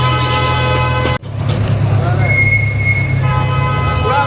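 An old heritage train runs at a heritage park in Tinsukia, Assam, giving a loud, steady rumble of wheels and carriages with a brief break and faint squeals, heard from on board.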